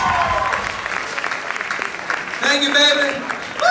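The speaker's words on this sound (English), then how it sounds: "Give her a round of applause" A concert audience applauds a baritone saxophone player with sustained, dense clapping and cheering. A voice speaks briefly over it and the band's horns start playing near the end.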